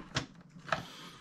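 Ratcheting joints of a Transformers War for Cybertron Ark figure click twice, two brief, close, fairly quiet snaps about half a second apart, with no talking.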